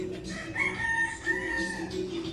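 Rooster crowing among a flock of chickens at a backyard coop, the sustained crow running for most of the moment with a steady background of clucks and farmyard noise, fairly close.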